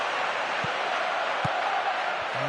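Steady crowd roar from a football video game stadium in PES on PS4, a broad continuous wash of cheering with no distinct peaks, a few low thumps near the start and middle.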